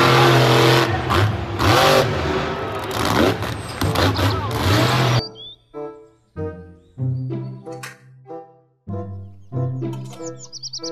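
A toy monster truck plays a loud, buzzing electronic engine rev for about five seconds, then a series of short chirpy jingle notes, with no one speaking.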